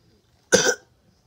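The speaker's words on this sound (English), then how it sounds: "Naruto would cough." A single short, sharp cough bursts out close up against an otherwise silent background.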